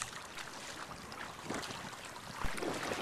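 A kayak paddled across Sooke Harbour, with soft, steady water swishes and light wind noise close by and no talking.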